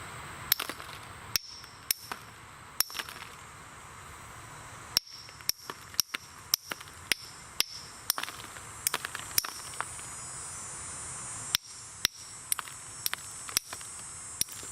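Glass from a bottle is knapped into an arrowhead while its thick edge is trimmed thinner: sharp, bright clicks and pings arrive in irregular bursts, some closely spaced, over a quiet background.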